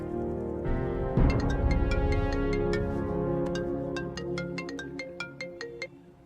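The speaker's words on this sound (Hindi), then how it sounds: "तुम्हारे लिए कॉल है।" A telephone ringtone plays for an incoming call in a Hindi-dubbed South Indian film scene, opening with a low burst and then a bright repeating electronic melody that rings out clearly and alone.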